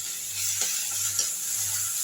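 Curry leaves sizzling in hot oil with onion and garlic for an egg masala: a steady, close hiss and crackle of frying, with faint scrapes of stirring. No one speaks.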